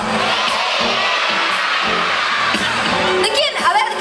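A concert crowd screams and cheers loudly in a continuous roar as two singers sing, with some higher shrieks rising near the end.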